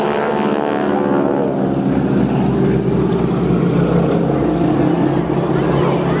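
Propeller aircraft in a mirror formation fly-past at the Clacton air show, a loud sustained engine drone passing close overhead; a commentator's voice is heard faintly over it.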